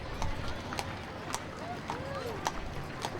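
Haflinger horses from a Christmas parade in Kansas, their hooves clip-clopping in an irregular, moderately close rhythm of sharp knocks over a busy outdoor background.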